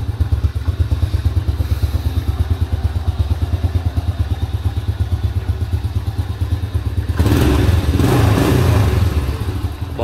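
A Honda Dream motorcycle engine idles loud and steady with a fast, even chugging beat, then briefly revs louder near the end before settling back down.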